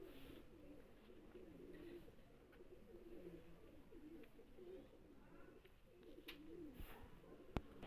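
Soft, repeated coos from a male pigeon murmur faintly through a low background rumble, with a single sharp click near the end.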